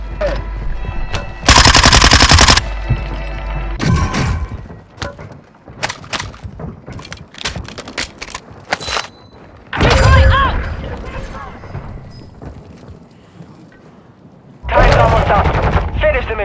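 Machine gun fire in a team shooter video game, loud close bursts of automatic fire broken up by single shots, with players talking over and between the bursts.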